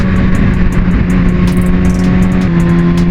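Kawasaki Ninja ZX6R fitted with a Philippine-made Orion exhaust muffler, revving loud and close with a raspy, sustained engine drone that shifts pitch slightly, punctuated by sharp crackling pops.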